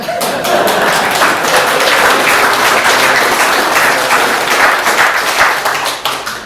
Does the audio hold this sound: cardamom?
no